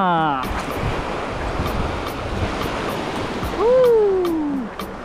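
Large ocean waves break at the shore in St. Lucia, Mauban, Quezon, a loud, sustained roaring wash with a surge near the end, while a voice rises briefly over the surf.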